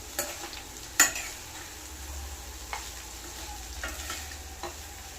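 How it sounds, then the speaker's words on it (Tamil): Cooked rice being stirred gently into paneer fried rice in a hot pan, with soft scraping strokes and a few sharper knocks of the spoon against the pan, faint and steady with no voices. "இப்போது குக் பண்ண ரைஸ் சேர்த்துக்கிறேன். ஜென்டலாக ரொம்ப மிக்ஸ் பண்ணிக்கிறேன்."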